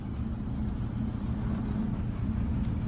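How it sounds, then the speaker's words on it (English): A garbage truck collecting trash at a desert spot produces a steady low engine rumble throughout, fairly close and unbroken, with no voices. "garbage truck collecting my trash"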